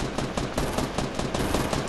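Rapid automatic gunfire in a Fortnite 50 vs 50 match rattles in quick, dense bursts, loud and close throughout, with no talk over it.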